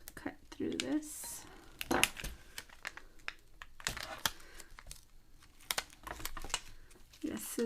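Tape covering a lace journal is cut through, giving faint, close crinkling and snipping ticks in irregular short bursts over quiet background.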